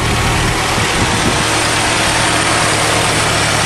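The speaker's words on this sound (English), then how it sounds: "Runs like brand new. What a sweet old motor." An old Nissan truck engine with a carburetor idles steadily outdoors after sitting all winter, a loud, constant low rumble that carries on unbroken with no talk.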